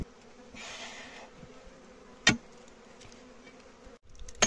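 A faint, steady buzz of wild forest bees hums beneath a quiet outdoor background, broken by a sharp click and a knock near the end as rock is chipped at a honey-gathering site.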